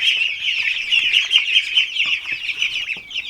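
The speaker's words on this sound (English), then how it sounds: "Good morning, noisy birds." A flock of chickens clucking and squawking together, a dense, continuous chorus of overlapping bird calls close by.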